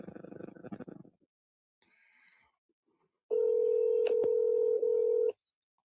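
A home landline being called: a short voice burst, then a quiet pause, then a loud, steady ringback tone that holds for about two seconds before cutting off.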